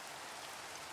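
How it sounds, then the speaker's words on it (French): Rain begins to fall in a cubic voxel video game, a steady soft hiss of raindrops, faint and even. "Et il se met à pleuvoir."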